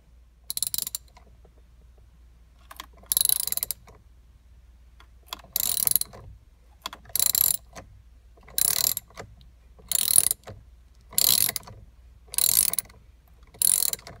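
A hand ratchet turns the steering wheel bolt on a Porsche during a PDK paddle Sport Design wheel install, giving about eight evenly spaced bursts of rapid, close clicking separated by short silences.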